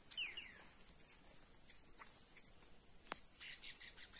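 A small bird chirps and trills in short, faint bursts outdoors at a fishing spot by a riverbank, set against a steady high insect drone and a quiet natural background.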